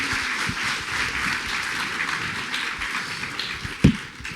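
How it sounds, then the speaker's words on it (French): Sustained audience applause for students at a conference on water challenges for livestock farming sectors. Many hands clap in an even wash, with one sharper knock near the end as the clapping starts to fade. "je vous demande de les applaudir pour ça"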